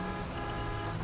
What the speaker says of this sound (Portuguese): Tô até buzinando aqui nessa porra